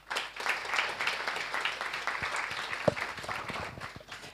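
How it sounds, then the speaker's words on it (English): Steady applause from a crowd, many hands clapping together throughout, dense and sustained with a few sharper claps standing out. "Another hand of applause for her"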